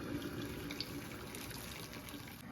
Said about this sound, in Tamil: இந்த கொதிக்கிற தண்ணியை இதில் அப்படியே ஊற்றலாம்